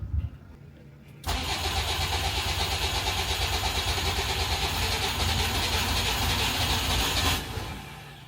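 A sailboat's outboard motor catches after a failed attempt, then runs loud and steady, sputtering along at a rough idle for several seconds before cutting off abruptly near the end.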